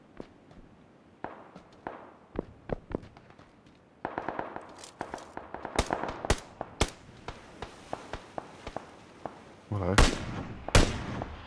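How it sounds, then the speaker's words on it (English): Sharp in-game gunshots from PlayerUnknown's Battlegrounds crack out irregularly, some near and loud, others fainter and distant, with louder bursts toward the end and voices heard only faintly. "Where are they shooting from?"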